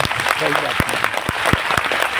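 Scattered clapping from a seated audience at a spiritual discourse breaks out in a handful of sharp, uneven claps over a couple of seconds, set against a low background murmur.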